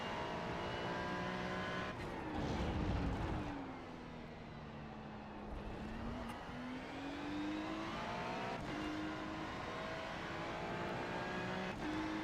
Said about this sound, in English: there comes a Porsche